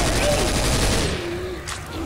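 Rapid automatic gunfire in the Left 4 Dead 2 video game, a dense loud burst that fades over about a second as a voice speaks underneath.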